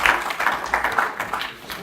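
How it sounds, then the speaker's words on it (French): A conference audience applauds with a burst of scattered hand claps that fade over about two seconds, with a voice speaking over the clapping. "je crois qu'on peut les applaudir aussi."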